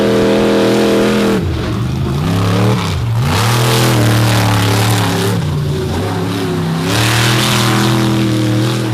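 Monster truck engine on a dirt race course at an event, loud close revving with several rising and falling surges of throttle, dominating the whole stretch.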